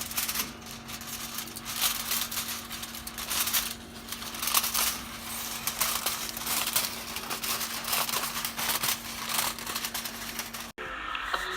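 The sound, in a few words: aluminium foil being crumpled into rolls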